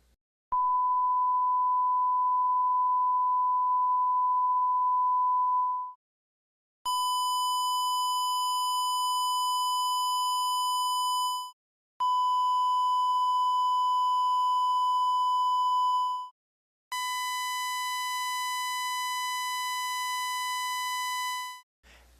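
Four electronic test tones at one pitch play in turn: a pure sine first, then a square, a triangle and a sawtooth, each steady for about five seconds with brief silent gaps and no voice.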